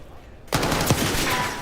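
Gunfire in the video game Call of Duty at a League Major tournament, as a sudden burst of rapid shots that breaks a near-silent moment and then a sustained loud rattle of firing.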